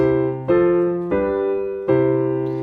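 Piano chords ring out in sequence, four sustained chords struck one after another and left to decay, clear and close with no talking.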